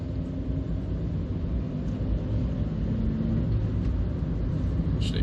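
A 2011 Toyota Yaris 1.33 cruising on a faster road, heard from inside the cabin as a steady, loud low engine and road drone with constant rumble and no voices.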